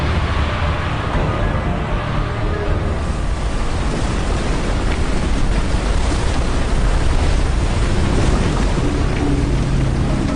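Giant ocean waves surging over coastal towns after a volcanic eruption, rendered as a loud, continuous roar of churning water and surf that runs steadily throughout with no voices.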